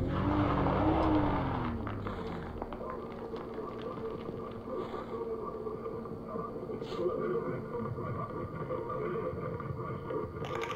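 Vehicle engine from a truck driven in a Siren Head horror video game, a steady mid-level motor drone with some tire noise that continues throughout, with people talking over it.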